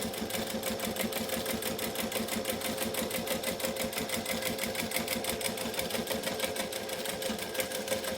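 A sewing machine stitches a clear pouch in a steady, fast, even chatter of needle strokes with a motor hum underneath, close and constant.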